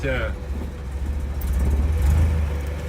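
An International Scout 80 engine idles in low gear, a steady low rumble that swells slightly midway, close by, with someone talking over it.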